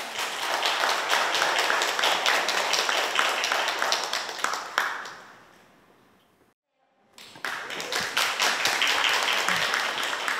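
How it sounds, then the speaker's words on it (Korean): Audience applause at an outdoor rainy-day evening concert as a janggu drummer is welcomed onstage: dense, loud clapping that fades away, a short silence, then clapping swells again. "큰 박수 부탁드릴게요"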